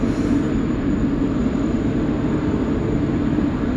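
An American Airlines Boeing 777-300 with big GE engines takes off at a busy airport, a loud, steady, broad engine roar with deep low-end rumble filling the whole stretch without pause.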